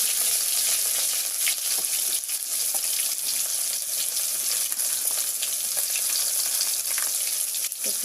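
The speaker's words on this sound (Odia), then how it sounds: "ଟମାଟୋ କାଟି ନେଇକି ପକାଇବା। ଭଲସେ ଭାଜିବା।" Chopped tomato and two bay leaves frying in hot oil for a rohu fish curry, a loud, dense, continuous crackling sizzle with light stirring, close up and without speech.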